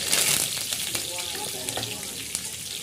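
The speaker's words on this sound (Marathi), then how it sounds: "कढईमध्ये थोडंसं तेल टाकलं आणि त्यामध्ये मोहरी, जिरं याची फोडणी दिली" Mustard seeds and cumin crackle in hot oil in a wok, a dense close sizzle with scattered pops and a voice speaking quietly underneath.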